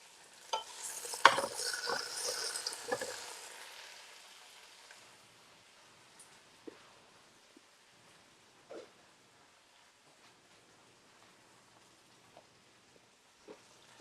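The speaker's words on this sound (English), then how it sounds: "I'm going to stir this around." Food in a pan gives a soft sizzle and a few scraping stirs early on, then fades to faint isolated clicks and taps in near quiet.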